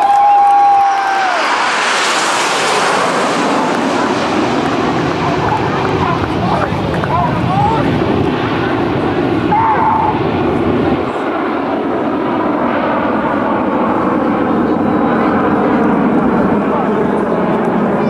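RAF Red Arrows jets flying in Diamond 9 formation over an air show: a loud, broad jet roar that sweeps in, then settles into a sustained rushing drone with wind buffeting the microphone.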